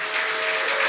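Applause from the audience at a closing ceremony for a hackathon event, a dense continuous patter of many hands filling the whole moment, steady and fairly loud.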